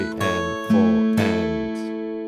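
An acoustic guitar strums the bass notes of a song, a few ringing down strums that sustain and overlap, close and clear with no voice.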